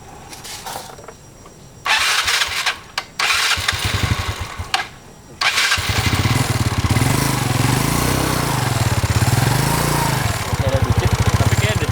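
A Yamaha Mio Sporty scooter with an upgraded CVT (1000 rpm clutch springs, 13.8-degree pulley, Daytona V-belt, 9 g rollers) clatters through a few short bursts, then starts and runs loudly and steadily close by, its pitch swelling and dipping.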